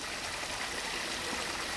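A stream flows past a small dam of stacked rocks, giving a steady, close, broadband rush of running water with no pauses and no voices.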